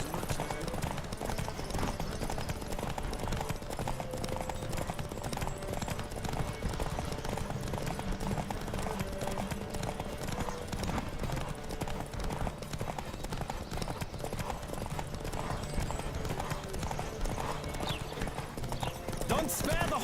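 A horse gallops in a race in The Witcher 3: a continuous, rapid drumming of hoofbeats, steady and close, running unbroken over a bed of game ambience.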